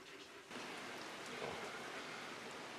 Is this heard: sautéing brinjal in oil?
no